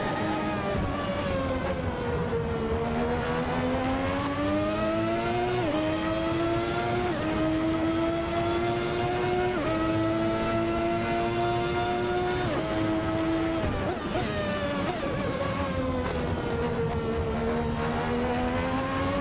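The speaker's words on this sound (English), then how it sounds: "in the overrun there at medium revs, you can hear some backfires going on behind you" A Ferrari 643 race car engine in a racing game drones steadily at high revs, pitch rising and dropping with gear changes, loud and continuous, with little distinct backfire popping.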